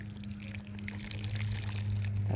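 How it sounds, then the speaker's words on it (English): A watering can gently pours water into small tomato and pepper plant pots, a steady, close trickle and splash over a low background hum, with no talking. "I'm just going to very gently water into each of these pots here."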